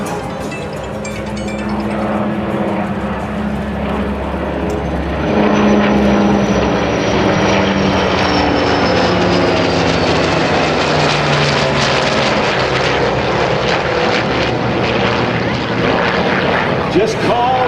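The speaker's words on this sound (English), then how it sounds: "I'm going to fade the music again so you can hear the sound of these incredible engines." Navy piston-engine fighters including the F4U Corsair, the bent-wing bird, flying over at an air show: a loud, steady engine roar that swells about a third of the way in and holds, with a faint voice beneath.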